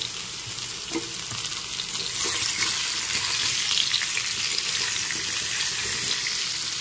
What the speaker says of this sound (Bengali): আলুটা ভেজে নেওয়ার পর এবার এর মধ্যে দিয়ে দিচ্ছি কুমড়ো। কুমড়োগুলোকে ভেজে নিতে হবে।